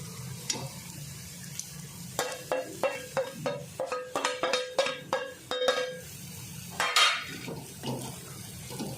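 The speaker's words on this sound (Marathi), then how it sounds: "मिरचीचा आणि लसूणचा कच्चेपणा जायपर्यंत जरा परतून घ्यायचं" Chilli and garlic with turmeric, chilli powder and garam masala are stirred and sautéed in a pan, a rhythmic series of spatula scrapes over a soft sizzle, close and fairly clear.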